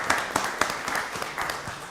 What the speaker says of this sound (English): Let's give them another round of applause for their presentation this evening.